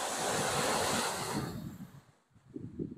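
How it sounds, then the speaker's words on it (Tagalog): Strong waves crash loudly at a river mouth where it opens to the sea, a steady roaring surge that fades partway through before rising again in short bursts. "Malakas yung alon"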